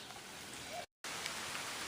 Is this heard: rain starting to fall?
yes